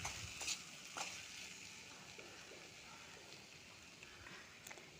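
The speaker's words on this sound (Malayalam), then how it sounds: "ഇനി ഇത് നന്നായി ഇളക്കുക." Onion curry with egg and cumin being stirred in a pan, with a faint soft sizzle, a few light scrapes and taps near the start, then a quiet steady hiss.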